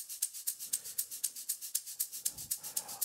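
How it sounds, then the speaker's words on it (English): Afro House shaker loop sample playing alone, a steady, crisp rhythmic shuffle of bright hissing hits repeating at a quick even pulse, fairly quiet, with a faint low thump near the end. "I added the shaker loop"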